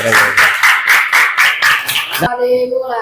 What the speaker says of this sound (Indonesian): baiklah, tepuk tangan untuk kita semua